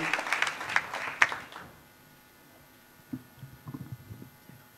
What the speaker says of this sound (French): On peut applaudir.